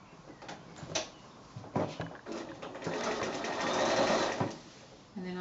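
Sewing machine stitching quilt binding, starting right at the fabric edge, running in a steady mechanical whir that builds through the middle and stops near the end; brief handling knocks come before it.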